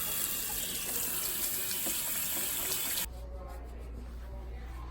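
Water running at a salon sink as hair color is rinsed out, a loud, steady splashing rush that stops abruptly about three seconds in, leaving a quieter low hum.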